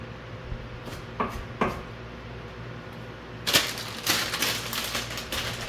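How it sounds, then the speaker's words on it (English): A knife chops garlic on a cutting board, with a few separate knocks early on and then a quicker run of sharp, close taps, all over a steady low background hum. "Just gonna chop up the garlic."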